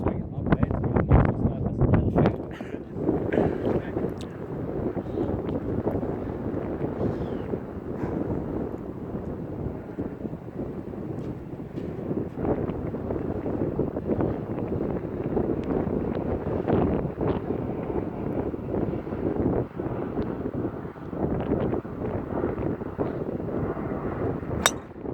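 Strong wind gusts batter the microphone on a golf course in Serengeti, giving a constant roaring rumble, while people talk over it.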